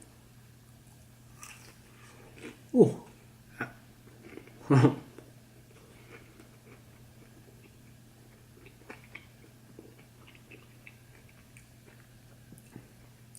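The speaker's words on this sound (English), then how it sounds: "these are very crunchy, so you might hear some crunching." Fried potstickers bitten and chewed up close, two loud crunchy bites a couple of seconds apart followed by fainter chewing, with a brief exclamation and a low steady hum underneath.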